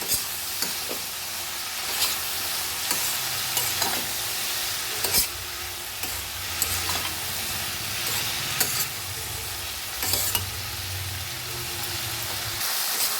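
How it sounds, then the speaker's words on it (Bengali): Yardlong beans stir-fried with salt and turmeric in a pan, a continuous close sizzle and hiss with repeated scraping stirs of the spatula over about thirteen seconds, no talking. "নুন দেব, হলুদ দেব, দিয়ে ভালো করে কষে নেব।"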